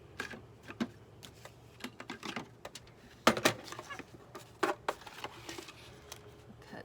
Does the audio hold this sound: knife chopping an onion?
no